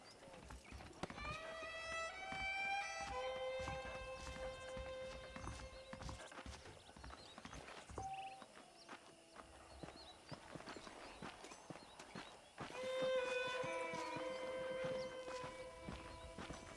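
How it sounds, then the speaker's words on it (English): Horse hooves clip-clop at a steady walking rhythm in the Western video game Red Dead Redemption, with a horse neighing and whinnying and a voice speaking over parts of it. "The horses are saddled up over here."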